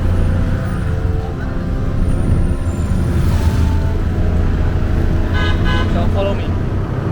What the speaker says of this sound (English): And now we are in a rickshaw or tuk-tuk, you can see.